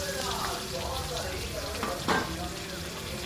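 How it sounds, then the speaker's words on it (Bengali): Onion and green chili frying in a pan with black cumin, a steady close sizzle with a few soft scrapes of stirring and one brief louder crackle. "পেঁয়াজ লঙ্কাটা ভালোভাবে ভেজে নেব"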